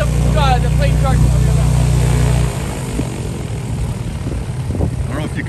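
An electric plane, being charged from a Ford F-150 Lightning during a record attempt flight, gives a loud steady low drone that cuts off after about two and a half seconds, leaving quieter background noise with faint voices.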